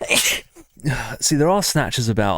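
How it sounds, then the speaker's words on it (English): A person sneezes sharply, a short burst right at the start, followed by a game character speaking at close range. "I'm fucking sneezing."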